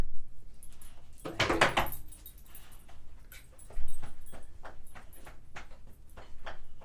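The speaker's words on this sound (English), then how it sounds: "If you hear the dog's tail whacking against my chair, it's because Doggy just got back from her walk." A dog just back from a walk whacks its tail against a chair, making a quick burst of loud knocks followed by scattered softer taps and thumps close by, with no talk.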